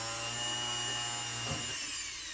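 A power drill bores into a metal ring, a steady high whine with harmonic tones that shifts and drops slightly in pitch toward the end.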